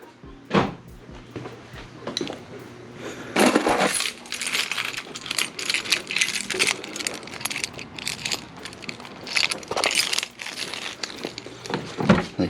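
Car keys jingle and clink in bursts while someone gets into a Lexus IS300 to center the steering wheel, with handling clatter and rustle throughout.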